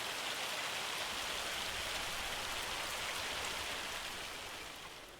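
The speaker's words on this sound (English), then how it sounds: "So we need to go through till it stops raining, which I would imagine it's not too far away." Steady rain falls throughout in a farming video game set on the Chambergo map, a dense, even hiss of drops on surfaces that holds constant and thins slightly toward the end, with no voices over it.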